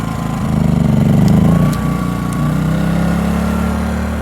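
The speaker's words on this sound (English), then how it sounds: "the generator's bogging down a little bit while we're trying to cut" A petrol generator engine runs steadily and loads down while powering a saw cutting roof trusses on a barn build; a loud continuous drone that dips and recovers in pitch, with no talk.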